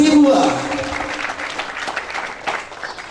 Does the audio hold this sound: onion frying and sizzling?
no